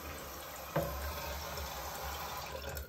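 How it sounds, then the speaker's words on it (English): Water runs steadily into a Toto Drake II toilet bowl as the fill valve refills it after a flush, a continuous close-up rush and trickle, loudest near the start. "The bowl is nicely filled."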